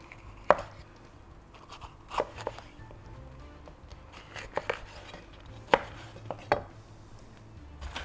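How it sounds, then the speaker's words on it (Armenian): A knife chops a red bell pepper into strips on a cutting board while a tuna pasta salad is prepared, giving a handful of sharp, separate strikes with gaps between them. "Փարակ շերդերի ենք վերածում ու հետո կտրատում ենք"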